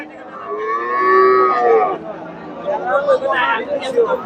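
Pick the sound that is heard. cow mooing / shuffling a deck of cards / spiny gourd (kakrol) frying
cow mooing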